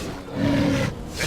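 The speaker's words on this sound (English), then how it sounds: "Oh, there's wolves over there." Wolves growl in the Dragon Age: Origins video game, a sustained low rumbling snarl that swells in the middle and eases off near the end, heard alone with no talk.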